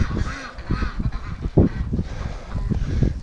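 Ducks and chickens crowding near a farm gate in winter, giving a run of loud honking, quacking calls close by, several bursts overlapping in quick succession.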